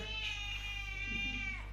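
A cat meows in the cattery of an animal shelter. One long, drawn-out, tonal meow is heard close up over a quiet background hum.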